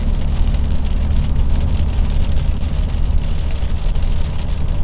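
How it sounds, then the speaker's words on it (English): Steady heavy rain drumming over the low rumble of a truck driving on an Oklahoma road, a dense continuous wash that stays loud and unbroken throughout. "as it rains harder"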